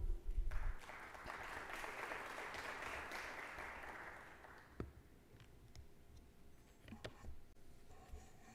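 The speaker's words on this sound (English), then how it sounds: "Please give a round of applause to Miss Asma Al Ghamdi." Applause from an audience at a scientific conference on amputee rehabilitation, a burst of steady clapping lasting a few seconds, then fading to scattered claps and clicks; fairly faint overall.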